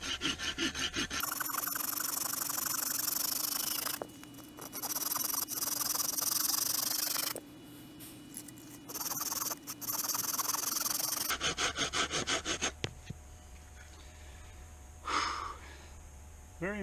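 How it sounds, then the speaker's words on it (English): A hand saw rasps through wood in long, rhythmic back-and-forth strokes, close by outdoors in the backcountry, with brief pauses between bursts of cutting. "So I'm going to saw through a few more pieces here."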